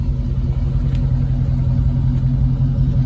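A 2020 Dodge Charger Scat Pack with a 392 Hemi 6.4-litre V8 and active exhaust, idling with a deep, steady, loud rumble throughout, recorded close with no voices.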